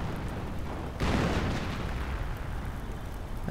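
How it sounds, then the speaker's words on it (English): A big explosion in a WWII strategy video game booms in after a second, a sudden dense blast that rumbles on and slowly fades beneath continuing battle noise. "That was a big explosion."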